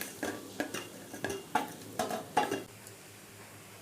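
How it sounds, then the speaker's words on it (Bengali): Gram flour batter being mixed by hand into sliced pointed gourd in a bowl, a series of sharp, faint clicks and wet slaps at an irregular rhythm, fading out near the end, no talk. "বেসনটা পটলের সাথে ভালো করে মাখিয়ে নেব।"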